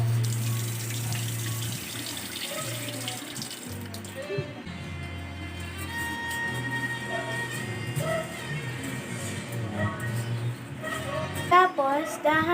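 Tap water runs steadily into a pot of rice being washed, with splashing and gushing close by while someone talks over it.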